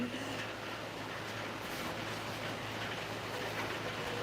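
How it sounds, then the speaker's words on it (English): A dense, constant downpour roars evenly throughout, with a faint steady hum beneath it. "we have like a downpour that just started happening outside"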